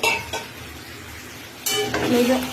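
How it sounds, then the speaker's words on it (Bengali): Chicken biryani gravy in a pot is stirred after water is added, with a spoon scraping against the metal and a sizzle that flares louder partway through, close by. "অল্প একটুখানি জল দিয়ে গ্রেভিটা তৈরি করে নেব"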